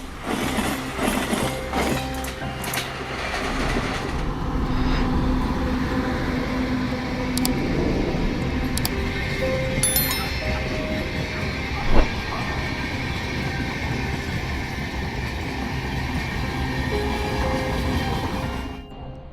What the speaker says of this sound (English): I thought the train was running smoothly